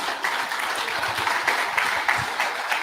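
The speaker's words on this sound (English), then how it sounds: "Give me a round of applause for Jeff, please." Listeners applaud Jeff with a short burst of hand clapping, moderately loud and fairly steady, with a few sharper claps standing out near the end.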